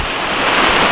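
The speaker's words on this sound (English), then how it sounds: "some winds, some little bit of rain sideways" Storm wind roaring steadily with rain driven sideways, a dense broadband rush that is loud and close, buffeting the microphone without any break.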